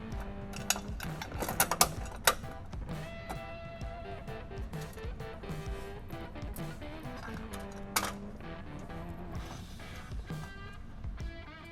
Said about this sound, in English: Now we're just gonna install the 1/4 inch hardware and tighten it up.